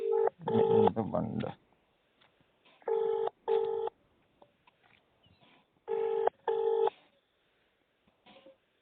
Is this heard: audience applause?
no